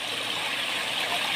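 A forest waterfall stream rushing, heard as a loud, constant, even wash of flowing water that fills the short moment without a break.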